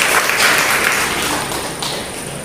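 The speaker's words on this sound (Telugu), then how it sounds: "గట్టిగా చప్పట్లు కొడదామా." Church congregation at an MB Church in Maldhakal clapping loudly together, a dense, continuous roar of hands that holds steady for a couple of seconds and tapers slightly at the end, with no voices over it.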